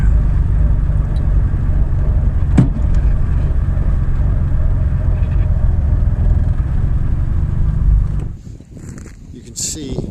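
A 1967 Triumph Vitesse drives along with a steady low engine drone and road rumble for about eight seconds, then the engine note drops away near the end, with a person speaking over it.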